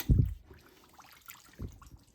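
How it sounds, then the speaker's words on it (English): Homemade chicken stock spills from a tipped pressure cooker pot in two brief, close pours, a splash at the start and another near the end, with faint trickling between. "eventually everything will come tipping out of the pot"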